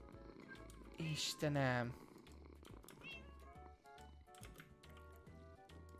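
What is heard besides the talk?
cats meowing and purring in video game Minecraft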